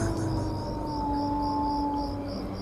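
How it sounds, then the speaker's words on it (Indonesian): A dog howls in a long, steady, wavering cry that holds close and fairly loud for the whole stretch, with no clear barks. "anjing itu pun menggonggong"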